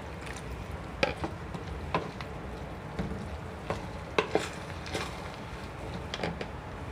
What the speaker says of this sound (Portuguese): Então vamos misturar por todo toda a panela aqui